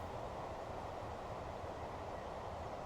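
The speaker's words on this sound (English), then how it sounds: "That's actually pretty realistic for a freight train pulling out." A freight train pulling out in the Train Fever video game gives a steady, dense low rumble and rolling wheel noise that holds evenly throughout, with no talking.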